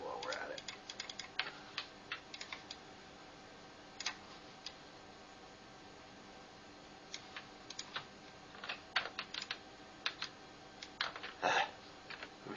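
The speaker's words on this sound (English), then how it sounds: "I'm hitting the wrong button, in case you can't tell, on my keyboard." Scattered keystrokes and clicks on a computer keyboard during 3D modeling work, coming in short irregular bursts with pauses between, faint and close against a low background hiss.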